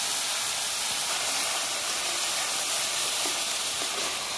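Ginger, garlic and onion paste hisses in hot oil in a pan of dry fish curry, a steady close sizzling wash that continues evenly without any speech.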